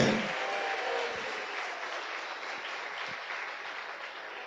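A church congregation at a Sunday communion service applauds together, a dense, continuous wash of clapping that holds steady and loud throughout, with no voices over it.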